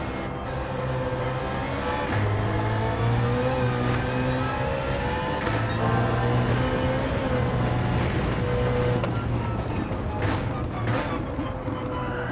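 A BMW E46 M3 race car in Gran Turismo 7 accelerates hard, its engine rising in pitch through the gears with brief drops at shifts, loud and continuous, while a voice talks over it.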